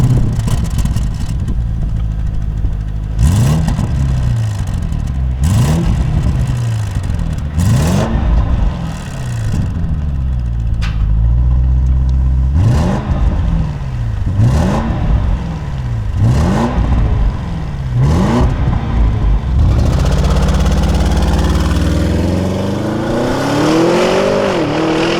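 Audi RS Q8 2020 engine accelerating hard under sporty driving, with repeated rising revs and gear changes across the run, loud and close inside the cabin, with no talking.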